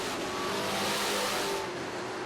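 Limited late model race cars roar around Barrie Speedway on opening night, a loud, continuous engine drone from the pack running close together at speed.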